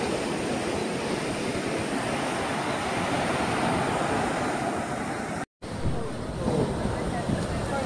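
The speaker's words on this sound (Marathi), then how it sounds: "तिकडे जाता येत नाही कारण लाटा खवळलेल्या आहेत. बघा, तुम्हाला आवाज येत असेल" Rough, churning sea waves off the coast of Bali roll in as a steady broadband wash, continuous and fairly loud with wind noise, briefly cut out near the end before resuming.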